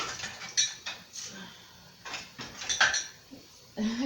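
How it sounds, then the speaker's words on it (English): A metal whisk caught in a pot rattles and clanks in short irregular bursts as it is tugged, close and moderately loud, with brief pauses between the jolts. "Can't get the dang whisk out."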